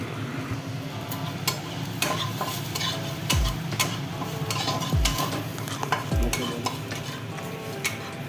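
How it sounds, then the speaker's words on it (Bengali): Garlic and chillies fry in hot oil in a pan, giving a steady, loud sizzle throughout, with a spatula stirring and scraping against the metal at regular intervals. "এখন রসুন আর লঙ্কা ভাজা হচ্ছে।"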